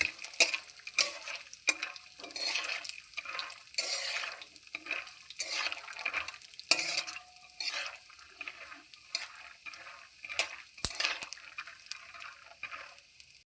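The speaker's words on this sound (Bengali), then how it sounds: "এবার আমি বাদামগুলোকে ভালোভাবে ভেজে নিচ্ছি।" Peanuts fry in mustard oil in a wok, giving a steady low sizzle broken by frequent sharp scrapes and clicks as they are stirred throughout, close and clear with no talking.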